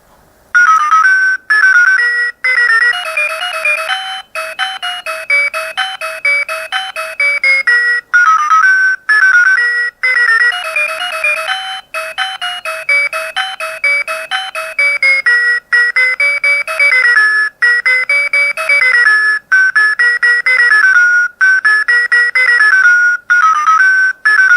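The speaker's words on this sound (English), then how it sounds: "The last alarm is Mozart's Turkish March." A Reflex talking watch sounds its alarm as Mozart's Turkish March, a bright electronic beeping melody that runs loud and steady for the whole stretch, alone with no talk.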